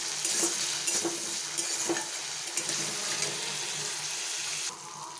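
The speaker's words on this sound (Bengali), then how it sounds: "টমেটো কুচি দিয়ে একটু নেড়ে চেড়ে দেবো।" Chopped tomatoes sizzle steadily in a hot pan while a spoon stirs them through, with soft scraping strokes over a continuous close frying hiss for a vegetarian tarka dal.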